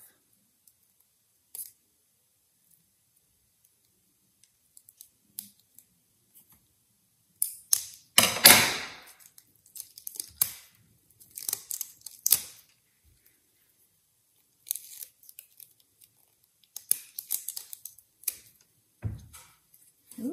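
Scissors snip through a snapped elastic band from a homemade, naturally dyed fabric face covering, giving a few close, dry clicks and crunchy cuts in short bursts separated by quiet pauses.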